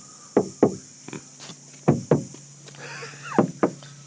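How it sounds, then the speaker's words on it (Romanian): Knuckles rap on the metal hood of a Skoda Octavia 2.0 TDI in several separate pairs of hollow knocks, loud and close, with faint background noise between them. "înainte să tragi de capotă, ciocăne în ea un pic"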